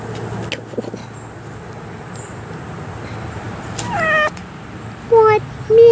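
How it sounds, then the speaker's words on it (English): A cat meows outdoors near a trail, a couple of rising, clear calls toward the end over steady road-vehicle rumble in the background. "Meow, he says."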